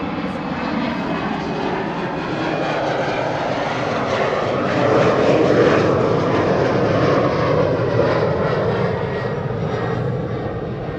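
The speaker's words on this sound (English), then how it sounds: "here we have the Air France A330" An Air France Airbus A330 jet airliner's engines roar at an airport, a loud, steady broadband rumble that swells slightly midway and holds without talk.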